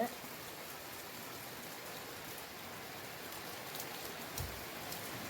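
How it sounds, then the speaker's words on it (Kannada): Steady rain pours outside, a constant hiss of drops falling on surfaces, fairly distant and with no other clear sounds. "ಎಷ್ಟು ಜೋರು ಮಳೆ ಬರ್ತಾ ಇದೆ ಅಂದರೆ ಹೊರಗಡೆ"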